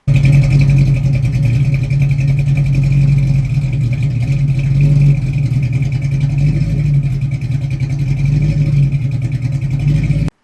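An engine fitted with a Holley Hyperspark ignition idles out of tune, its loud, close rumble surging and wavering unevenly, with faint clatter and no speech.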